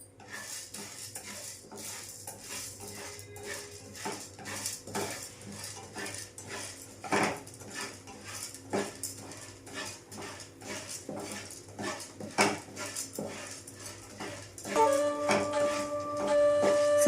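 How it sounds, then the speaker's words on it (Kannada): Chana dal roasts in a spoonful of oil in a pan while a metal spoon stirs it, making steady, repeated light clinks and scrapes against the pan at a moderate level, with a few louder knocks and no speech. "ಈಗ ಹುರಿಲಿಕ್ಕೆ ಮೊದಲಿಗೆ ಒಂದು ಸ್ಪೂನಷ್ಟು ಎಣ್ಣೆ ಹಾಕ್ಕೊಳ್ಳೋಣ. ಕಡಲೆಬೇಳೆ ಹುರ್ಕೊಳ್ಳೋಣ ಮೊದಲು."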